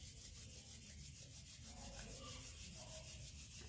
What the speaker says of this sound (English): now just rub your hands again